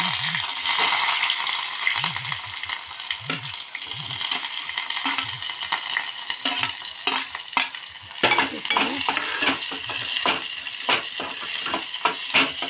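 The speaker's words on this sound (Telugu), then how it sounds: "స్పెషల్ కరివేపాకు వేస్తున్నా" Curry leaves sizzling in tempering oil with cumin, mustard seeds, chili and onion: a loud, continuous crackling fry, with repeated clinks and scrapes of a spoon against the pan.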